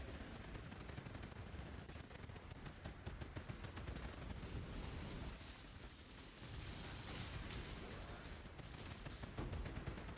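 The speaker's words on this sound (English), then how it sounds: "Oh, those explosions are massive." Massive explosions burst in Path of Exile during a Kinetic Warden Blaster build run, a dense, continuous barrage of loud crackling blasts and impacts with a brief lull midway before the din resumes.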